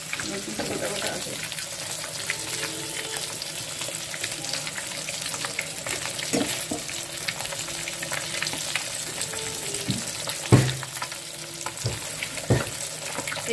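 Pumpkin frying in oil in a pan in a home kitchen, a steady low crackle and hiss running throughout with occasional louder clatters of a utensil, continuous and close.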